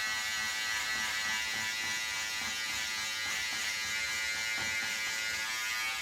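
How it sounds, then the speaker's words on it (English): An electric hair clipper buzzes steadily and continuously while fading hair, a constant close droning hum without pauses. "I'll then open up my clipper and fade into my 2"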